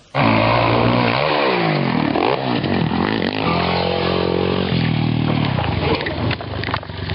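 Loud, close dirt bike engine revving hard, its pitch sweeping up and down repeatedly in sharp throttle bursts, then settling into a sustained high drone.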